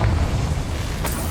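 A single Confringo fire spell explosion in Hogwarts Legacy, a short, loud, low boom with a rumbling body and a crisp crackle flaring near its tail.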